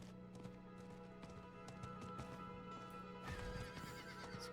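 A horse mount in the video game Diablo 4 gallops with steady clip-clopping hooves and gives a whinny, set against game ambience with no talk.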